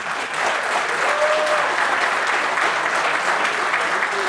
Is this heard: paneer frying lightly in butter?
no